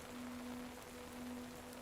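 Steady, soft rain falls at a distance on a quiet night by a lake, a faint, even hiss with no voices and no distinct drops.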